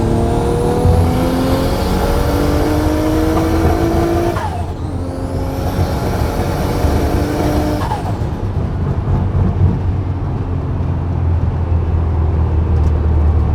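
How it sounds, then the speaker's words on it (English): A 600 hp 1995 Lotus does a burnout on the road, its engine screaming through two rising rev sweeps that cut off sharply, then settling into a loud, rough, steady idle rumble, close by with no talking. "I do burnouts everywhere I go"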